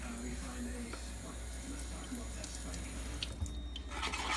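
Water runs from a kitchen tap into a powder mixture, a steady close hiss with faint dripping and no talking.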